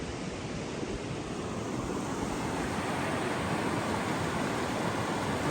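Flowing water of Harpers Creek in Pisgah National Forest, North Carolina, a steady, dense rush filling the whole clip without pause, close and fairly loud, with no voices.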